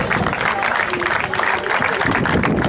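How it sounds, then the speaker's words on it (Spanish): Sustained clapping from a crowd cheering a female runner at the Milla do Albariño mile road race in Cambados, continuous and fairly loud with murmured voices underneath. "Un fuerte aplauso."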